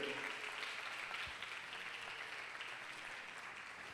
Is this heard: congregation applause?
yes